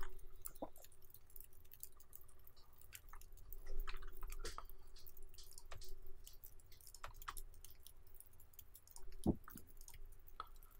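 A character eats and chews food in The Long Dark, a survival video game, with faint, soft crunching and clicking scattered over a quiet ambient bed and one sharper bite near the end.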